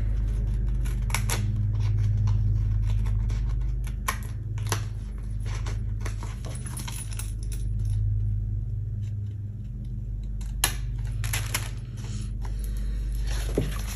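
Scissors cut a planner sheet, giving repeated crisp snips and paper rustles close up over a constant low hum, with no talking.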